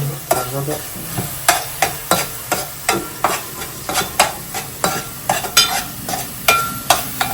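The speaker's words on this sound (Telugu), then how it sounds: "ఆనియన్ అలా ఫ్రై అవుతుండగానే దాంట్లో జింజర్ గార్లిక్ పేస్ట్ కూడా వేసేయాలి" Onions frying with ginger garlic paste in a pan for chicken curry, a steady sizzle broken by regular scraping strokes of a spoon stirring, close and fairly loud.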